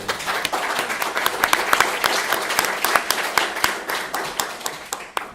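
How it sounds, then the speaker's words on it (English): Audience applauding speakers after a business seminar panel discussion, a lively mix of individual hand claps ringing out sharply over a continuous bed of clapping from a moderate-sized crowd. "applause for the speakers"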